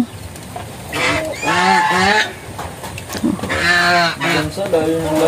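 Small chicks peeping while cold in heavy rain, with loud, shrill, repeated calls in two bursts close by, mixed with other farm animal cries and background noise.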